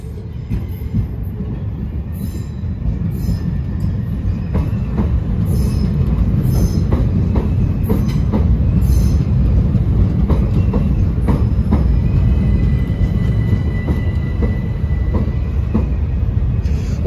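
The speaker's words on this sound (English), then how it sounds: "Now arriving on platform number 5 at London Charing Cross is" A Southeastern Class 375 electric train pulls into London Charing Cross station. Loud steady rolling rumble with rhythmic wheel clicks and high wheel squeals as it slows at the platform.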